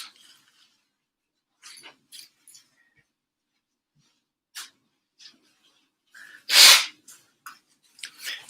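Soft sniffs and breaths build in a quiet room, then one loud, explosive sneeze bursts out, followed by a few small sniffles.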